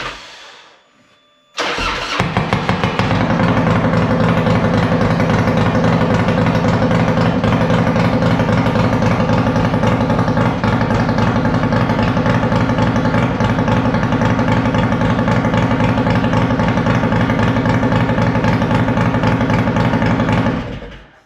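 A motorcycle fitted with a new Marelli upgrade fires for the first time: a brief starter whir, then the engine catches and runs loud and steady at a high idle for nearly twenty seconds before cutting off.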